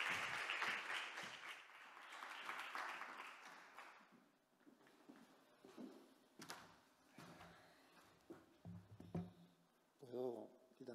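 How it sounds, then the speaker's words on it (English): An audience at an education lecture on ecopedagogy and ecopacifism applauds. The clapping is dense at first and then fades over the first few seconds, followed by scattered shuffling and speech. "A warm round of applause for him."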